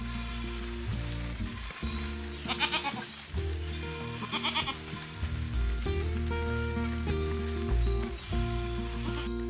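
Goats bleat on an off-grid farm, several calls in short bursts against a steady low background hum, with a bird chirp briefly in the middle.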